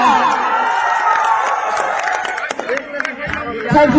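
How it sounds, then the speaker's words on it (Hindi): An outdoor crowd cheers and shouts for Bhojpuri actress Akshara Singh on her arrival in Gopalganj, a loud, continuous roar of voices and whoops with scattered clapping. "भोजपुरी क्वीन के लिए जोरदार तालियां"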